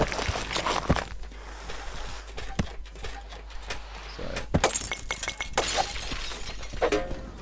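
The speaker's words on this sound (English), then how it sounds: "Takes 3 hits to get through glass." Glass being smashed in the video game The Swindle, several sharp shattering cracks spaced a second or two apart, with a louder burst of breaking and tinkling debris in the second half, no talking.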